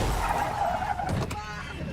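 Tires squeal briefly as a car stops in a movie scene, a short high skid under engine noise that fades toward the end, with people talking over it.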